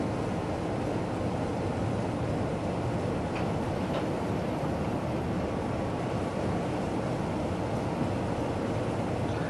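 A locomotive in a train simulator game running toward a tunnel on a London to Faversham spoil train route: a steady, dense rumbling roar, even and continuous throughout, with no voices.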